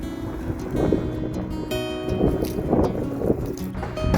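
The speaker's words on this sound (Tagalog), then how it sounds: "Medyo malakas yung hangin sa taas" Strong wind buffets the microphone in rough, gusting waves, a loud low rumble rising and falling over a few seconds.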